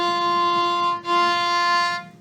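A bowed string instrument sustains two smooth, steady notes back to back, clear and close, with no talking.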